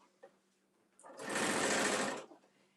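A sewing machine stitches through thick tote bag fabric in one short, loud whirring run of a little over a second, with quiet moments before and after.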